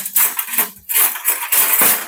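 A metal spoon clinks and scrapes against a glass in quick bursts while stirring raw milk into a date and fig juice, bright and close, with short pauses between the rounds of stirring.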